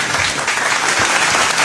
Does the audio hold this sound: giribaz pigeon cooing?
no